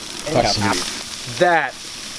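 A steak searing in an extremely hot pan, its sizzle hissing steadily beneath someone speaking close by.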